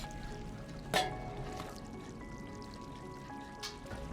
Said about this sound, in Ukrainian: Та тут десь протікає вода, я чую.